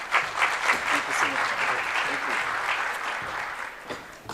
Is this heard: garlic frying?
no